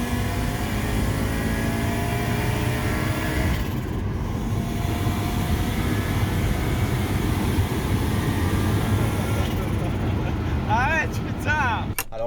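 An Audi S2 with a turbocharged five-cylinder engine and quattro drive accelerates hard, its loud, steady engine roar lasting throughout, with a brief whistling rise near the end.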